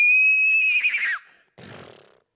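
A horse whinnies loudly with a shrill, wavering call that trails off, followed after a short pause by a softer snorting breath.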